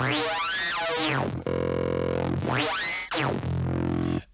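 A Serum synthesized dubstep bass tone with sweeping, metallic FM harmonics, repeated in two phrases with sliding pitch and sharp buzzy sustain.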